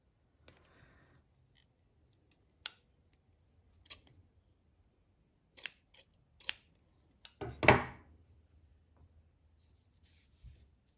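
Close, quiet snips of scissors cutting yarn while knitting a cardigan, several small clicks spaced apart followed by a longer crisp cut through the yarn, in an otherwise silent room.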